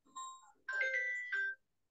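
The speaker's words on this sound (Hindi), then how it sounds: "ये फोन अटेंड करो जरा" A phone ringtone sounds nearby, a short melodic electronic jingle of bright tones in two quick phrases, alone and clear against silence.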